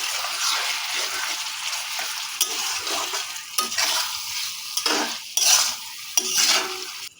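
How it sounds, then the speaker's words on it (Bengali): Chicken being stirred with salt in a pan, a soft sizzle broken by repeated metal spatula scrapes and clinks against the pan, close and clear. "এগুলোকে ভালো করে মিশিয়ে নিচ্ছি।"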